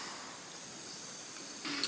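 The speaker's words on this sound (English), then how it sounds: "She's nearly done fizzing." An effervescent drink fizzes in a glass: a faint, steady hiss of bursting bubbles that carries on evenly, swelling slightly just before the end.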